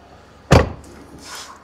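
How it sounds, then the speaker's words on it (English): A Porsche 911 Targa's front trunk lid dropped onto its soft-close latch gives one close, solid thud, followed by a faint whirring as the mechanism pulls it shut. "it's got a soft close mechanism, so you sort of just drop it, then it shuts itself"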